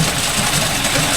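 A John Deere 5105 40 hp 4WD tractor runs in a low gear at about 1000 RPM, giving a steady, loud, close engine drone with no talking.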